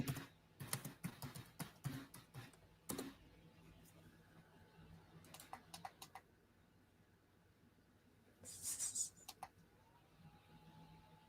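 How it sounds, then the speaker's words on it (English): Keys clatter on a computer keyboard in quick bursts, with pauses between, close and fairly quiet, while people talk nearby. "Are we both typing the same thing at the same time, Sophia?"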